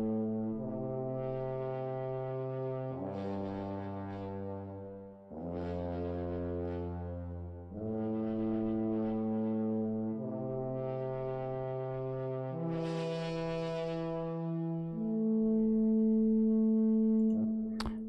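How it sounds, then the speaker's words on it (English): A sampled tuba in FL Studio plays long sustained low notes, about seven in a slow stepwise line, each held for a couple of seconds with a warm brassy tone, loud and unaccompanied. "This is a tuba."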